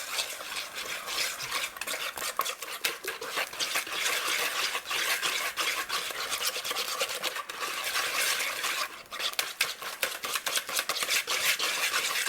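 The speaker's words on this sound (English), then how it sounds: "All right, we're going to whisk this together." Biscotti batter made with half a cup of oil is whisked in a bowl, giving continuous, close, rapid scraping and clinking of the whisk against the bowl, steady throughout with no talk.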